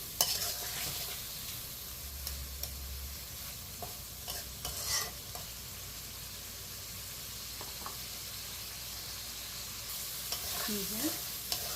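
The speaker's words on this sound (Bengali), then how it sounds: "দিয়ে আমি এটাকে এখন চিংড়ি মাছটা ভালো করে কষিয়ে নেব" Prawns seasoned with salt fry and are stirred in a pan for a bottle-gourd prawn dish, producing a soft, continuous sizzle with repeated spatula scrapes and light knocks, fairly quiet and without talk.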